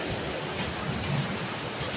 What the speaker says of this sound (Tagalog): Naglaglagan yung yelo.